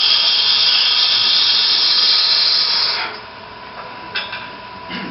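A gouge cuts a sphere on a wood lathe, giving a steady, loud hissing whine that drops suddenly to a quieter scrape with a few brief bright bursts near the end.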